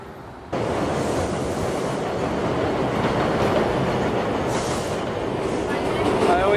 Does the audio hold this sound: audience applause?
no